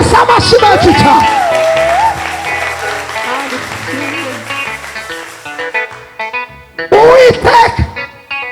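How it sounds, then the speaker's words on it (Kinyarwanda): A church congregation applauds and cheers loudly through the first half, the clapping thinning into a quieter murmur while a loud voice speaks and sings over it, then a brief burst of cheering near the end. "Komera Yesu amashyi menshi cyane"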